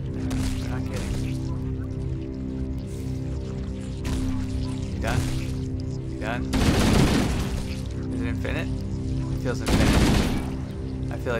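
Gunfire in Halo from the Master Chief Collection, on The Maw level. Steady bursts of rapid shots build into two loud, dense volleys, with players talking throughout.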